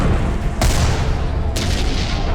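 Civil War artillery fires amid a continuous battle din, with two heavy booms a second apart standing out over a loud, dense rumble that runs throughout; no one speaks.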